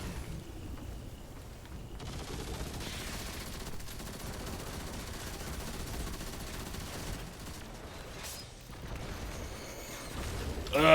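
Destiny 2 battle with gunfire and enemies that blow up when shot: a steady, dense wash of rapid weapon fire and crackling blasts, building to a louder burst at the end, with no talk.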